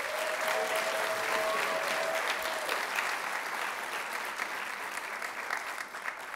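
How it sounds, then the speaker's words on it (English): An audience at a Broadway-themed stage show claps steadily, a dense, full round of applause sustained throughout without pause. "So let's give them a round of applause."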